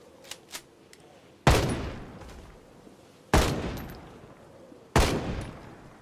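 Gunfire in the zombie survival game Project Zomboid: a few faint early pops, then three loud, sharp shots spaced about two seconds apart, each trailing off in a decaying rumble.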